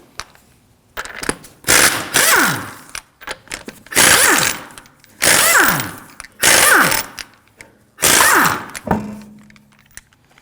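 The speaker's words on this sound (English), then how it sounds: "To remove the wheel, we're going to use a 19mm socket" An impact wrench with a 19mm socket spinning off the wheel nuts of a 2013-2015 Subaru XV Crosstrek, five loud rattling bursts of a couple of seconds each separated by short pauses, close by.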